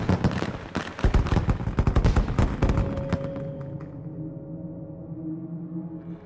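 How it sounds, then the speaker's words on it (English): Dense crackling volleys of fireworks in the video game Fallout: New Vegas, loud rapid bursts for the first few seconds, then a fading tonal ring and sparse pops as the display dies down. "Those are pathetic fireworks."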